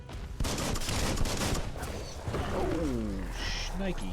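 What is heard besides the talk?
gunfire and bullets in a video game boss fight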